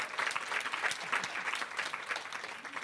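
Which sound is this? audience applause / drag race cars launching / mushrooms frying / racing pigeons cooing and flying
audience applause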